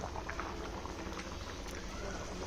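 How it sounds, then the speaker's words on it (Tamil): Thick Chettinad curry bubbles and sputters steadily in a pot, a continuous close-up simmering patter with small pops throughout. "இப்போ குழம்பு வந்து கொதிக்கிறப்ப"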